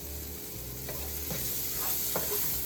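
Onions frying in a pan, a soft continuous sizzle with a few scraping stirs of the spoon at irregular moments, close and fairly quiet, no voices.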